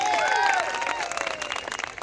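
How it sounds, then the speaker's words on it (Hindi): A crowd at an evening poetry gathering during a Dhaulpur autumn festival claps loudly for a poet, the dense applause joined by a few high tonal sounds early on and growing more uneven toward the end. "मैं चाहूंगा आप अपने लाडले के सम्मान में एक बार जोरदार तालियां बजा दें।"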